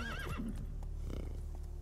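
A horse in The Witcher 3 lets out a loud whinny with a rising and falling pitch, followed by a few soft hoof thuds against a steady low rumble of background ambience.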